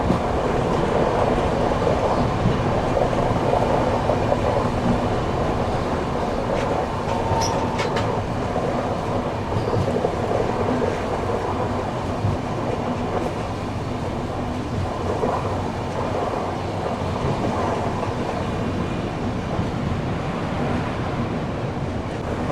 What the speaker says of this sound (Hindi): अभी अपनी ट्रेन स्किप कर रही है धीरे धीरे सीताफल मंडी रेलवे स्टेशन